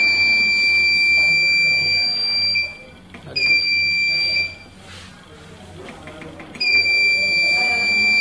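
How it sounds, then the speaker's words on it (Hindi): A Sunpack 3525 inverter's buzzer sounds a loud, shrill continuous beep three times to confirm a mode change, with short pauses between tones. "कंटिन्यूअस 3 बार प्रेस करेंगे, बजर आएगा, उसका मतलब ये होगा कि मोड हमारा जो चेंज हो गया।"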